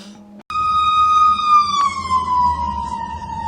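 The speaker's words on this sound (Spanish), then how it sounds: "como yo estoy escuchando una ambulancia pasar" A loud ambulance siren wails steadily with a slowly falling pitch, a vehicle engine rumbling underneath as it goes by.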